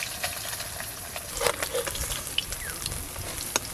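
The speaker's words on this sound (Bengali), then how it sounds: "পার্শে মাছগুলো ভালো করে ভাজা হয়ে গেছে, এবার তুলে নেব।" Parshe, gold-spot mullet, frying in hot oil gives a steady broadband sizzle with scattered crackles and pops, close and fairly loud, with no voices over it.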